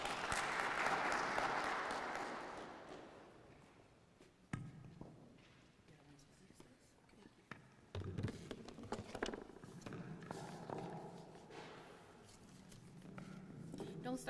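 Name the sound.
conference audience applause welcoming a presenter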